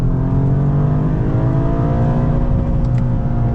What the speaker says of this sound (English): And then in manual mode, it will bounce off the rev limiter.